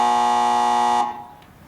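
A quiz show contestant buzzer sounds one loud, steady electronic tone for about a second, then cuts off, leaving a quiet room.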